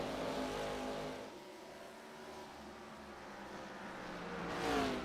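Simulated race cars lapping the Bristol oval in a sim racing game, engines droning steadily and swelling as cars pass, faint and without commentary.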